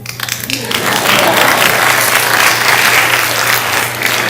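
A room of people breaks into applause, building after a few scattered claps into a loud, dense, sustained round of clapping that holds steady and eases off near the end.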